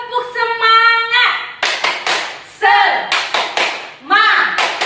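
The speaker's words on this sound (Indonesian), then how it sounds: "Tepuk semangat." Children and an adult clap a rhythmic spirit chant at a Sunday school service, bursts of hand claps alternating with loud sung or shouted voices.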